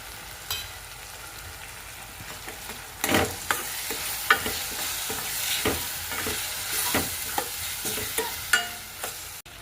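Onion and tomato masala with chili powder frying in oil, with a continuous close sizzle and intermittent spoon stirs and scrapes that grow louder after the first few seconds.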